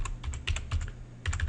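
A domain name being typed on a computer keyboard: close, crisp keystrokes in quick irregular bursts with short pauses between them, no voices.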